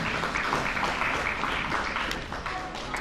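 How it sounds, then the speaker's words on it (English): An indoor school audience applauds the Brain Bee competition participants, a continuous even wash of clapping throughout with a slight dip near the end. "Let's give a very round of applause to each and every one of you."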